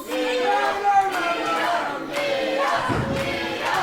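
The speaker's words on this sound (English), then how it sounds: "Crowd getting behind Leon Slater and Safire" Wrestling crowd at a No Limits Championship match roaring and chanting in support of Leon Slater and Safire, a dense continuous swell of massed voices with shouts rising throughout.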